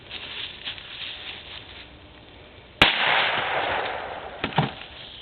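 A single loud, sharp gunshot from a bigger gun fired at inanimate objects cracks out midway, followed by a lingering rush of noise and a couple of smaller pops near the end.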